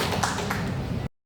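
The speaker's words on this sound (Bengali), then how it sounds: "আরে জোরে হাততালি" Brief burst of audience clapping at a Nikon Z5 II camera event in Asansol, dense and steady for about a second before cutting off abruptly.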